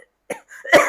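A man gives a single short cough followed by a second harsher cough, close and dry, alone without speech.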